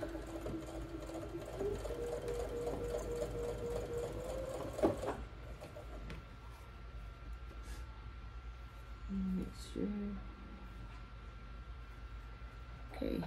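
A sewing machine stitches a quilt block, running steadily for about five seconds with a rising whir, then stopping for short intermittent bursts, close and moderately quiet.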